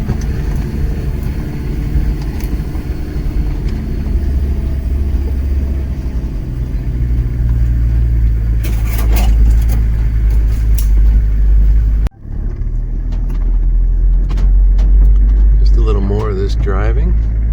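A safari vehicle grinds along a sandy track through dense thicket in Maputo National Park, its engine a steady loud rumble throughout with brief rattles and a sudden jolt partway; a voice talks faintly beneath the noise.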